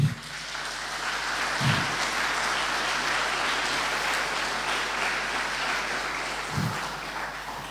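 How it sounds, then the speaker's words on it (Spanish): A church congregation applauds during a sermon, with steady, dense clapping that holds at an even level for several seconds and has no voice over it. "Dale un aplauso al Señor."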